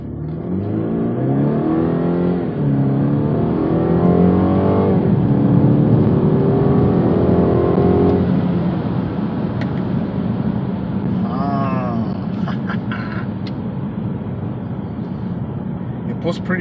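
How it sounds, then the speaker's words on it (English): A BMW 430i F36 with traction control switched off accelerates hard, its engine note climbing steadily in pitch with a strong, continuous drone, while people talk inside the car over it. "It does have the BMW sound"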